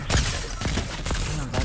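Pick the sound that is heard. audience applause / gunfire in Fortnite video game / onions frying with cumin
gunfire in Fortnite video game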